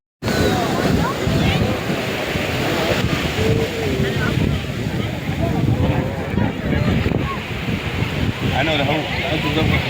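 Sea waves wash onto a beach in a continuous rushing surf mixed with wind buffeting the microphone, while people talk nearby.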